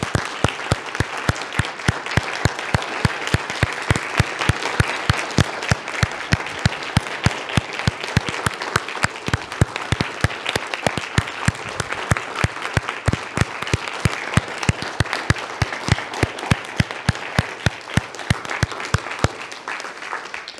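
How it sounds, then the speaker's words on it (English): A church congregation applauds standing veterans at a service honoring those who served, sustained dense clapping across the whole stretch with no talk. "And let's give them a round of applause."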